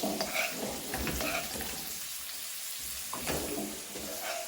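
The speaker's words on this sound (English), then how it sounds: "scoop the butter and the oil on top of your steak as it cooks, like so" Steak basted with spooned butter and oil sizzles in a pan, a steady close frying hiss with faint scraping and spooning sounds, louder at the start and easing slightly, with no talking.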